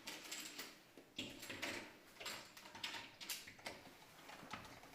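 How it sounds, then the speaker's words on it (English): A cold welding machine, model SC1100, runs on stainless steel and copper with a steady mechanical ticking and clicking, repeated sharp clacks over a faint hum, close and fairly quiet, with no talk. "cold welding machine,"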